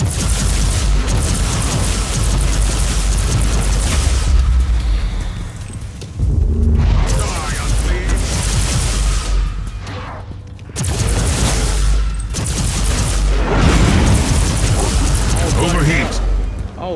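Grenade blasts and heavy weapon fire in the action RPG Warhammer 40k Inquisitor-Martyr, loud dense booms and bursts rolling almost continuously, with brief lulls between waves of combat.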